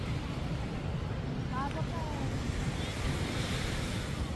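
Ocean waves at high tide on a busy Boracay beach, a steady close wash of surf mixed with wind noise on the microphone, continuous and fairly loud throughout.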